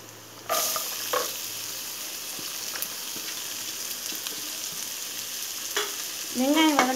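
Onions fry in hot oil with a steady, loud sizzle that runs throughout, and a few clinks and stirs come near the end.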